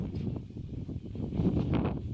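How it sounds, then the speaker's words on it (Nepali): Strong wind gusts across a high rocky ridge, buffeting the microphone in a continuous roaring rush that swells toward the end. "हावा चलेर उडाइ लाने हावा छ"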